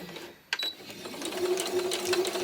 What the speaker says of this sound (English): I'll just do a straight stitch.